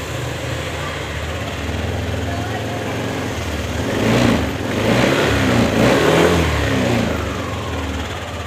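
A Yamaha NMAX scooter engine runs close by, idling and then revving up in a couple of rising surges near the middle before easing back, with someone speaking over it.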